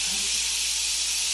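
Meat frying in a pan, a steady, fairly loud sizzling hiss that runs unbroken throughout, with no talk over it.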